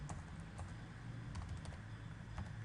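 Soft, quick keystrokes on a computer keyboard, an irregular run of light clicks heard up close in a quiet room.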